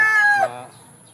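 Chickens close by near a malunggay tree, one loud drawn-out crowing call that breaks off abruptly and trails into quiet background.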